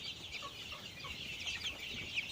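Male hybrid layer chicks about three weeks old peep in soft, high, scattered chirps at low volume, with no talk.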